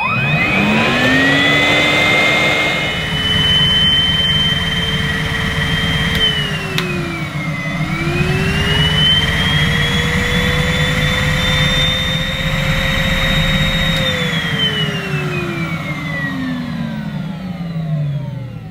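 Numatic Henry Cordless vacuum cleaner running, a loud close motor whine that rises, dips briefly, climbs again and then winds down, with no talk.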